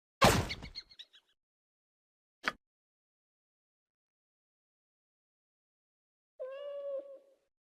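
A cat meows once in the Baldur's Gate: Enhanced Edition video game, a short clear call near the end after a loud hit and a sharp knock, with silence in between.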